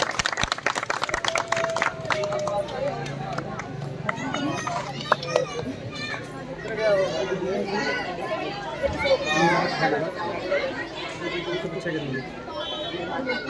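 A crowd of children claps and cheers amid lively chatter, a busy, continuous noise with sharp claps at the start.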